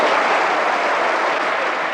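A dense, steady wave of audience clapping fills a Christmas concert hall after the fairy queen act, loud and continuous with no voices.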